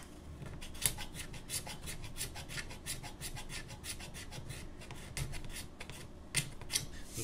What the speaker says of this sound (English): Sometimes it's easy to use curved scraper for just spot scraping some glue off.